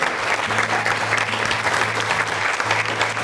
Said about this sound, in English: I'd like us to give just a round of applause to the staff